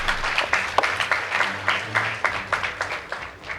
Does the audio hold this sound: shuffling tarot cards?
no